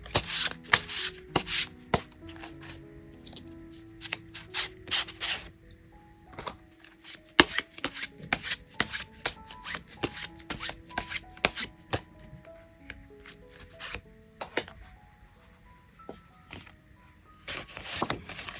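Tarot cards shuffled and drawn by hand, with a steady run of quick, close papery slaps, rubs and flicks, some sharper snaps standing out, and soft background music underneath.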